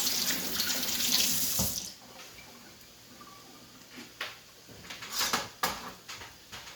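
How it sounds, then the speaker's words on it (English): Water runs from a kitchen tap for a couple of seconds while hands are washed, a close steady hiss that stops, followed by scattered clinks and knocks around the sink. "Let's wash my hands."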